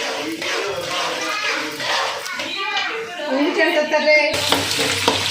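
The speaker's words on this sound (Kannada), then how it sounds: "ನೀವು ಉದ್ದಿನ ಬೇಳೆ ಹಾಕಿ ಚೆನ್ನಾಗಿ ಅದಿಷ್ಟು ಮೂರನ್ನೂ ಗೋಲ್ಡನ್ ಬ್ರೌನ್ ಕಲರ್ ಬರೋವರೆಗೂ ರೋಸ್ಟ್ನ ಮಾಡ್ಕೋಬೇಕು" Urad dal roasts in a pan until golden brown, giving a steady sizzling crackle while children's voices and chatter carry on over it.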